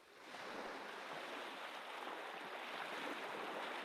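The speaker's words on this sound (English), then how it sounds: "And you can hear the waves really gently coming up the shore." Gentle waves wash steadily onto a sandy shore, a soft continuous rushing hiss that rises in the first half second and then holds even, with no voices present.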